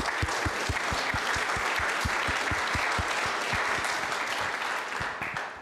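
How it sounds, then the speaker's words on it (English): An audience applauds for a sheriff walking down to the front at a public safety meeting, steady dense clapping with distinct individual claps near the mic, holding for several seconds and tapering slightly at the end. "Let's give him a round of applause, too."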